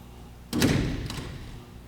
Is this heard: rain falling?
no